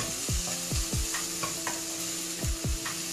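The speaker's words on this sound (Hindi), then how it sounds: "इसको अच्छे से फ्राई करेंगे।" Chopped onion and tomato fry in a pan with a soft sizzle beneath repeated scraping stirs, a few strokes in quick bursts, close and fairly quiet, with no talking.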